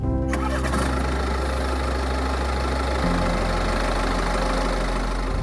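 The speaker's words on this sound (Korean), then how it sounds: "현재 들어보신 것처럼 디젤 엔진을 탑재하고 있는 520D입니다" A 2018 BMW 520d diesel engine cranks and catches near the start, then settles into a steady, rumbling idle that drops slightly in pitch partway through.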